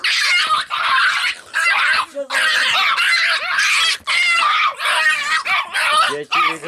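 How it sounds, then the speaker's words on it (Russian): A small dog yaps and yelps in rapid, shrill bursts at close range, mixed with people's voices and excited chatter. "Вот это вот жалкая собачонка."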